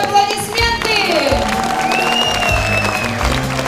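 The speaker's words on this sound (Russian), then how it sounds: "Дорогие друзья, ваши аплодисменты!" An audience applauds at a 2016 summer sports festival for railway transport workers in Kazan, with steady, sustained clapping under a layer of music.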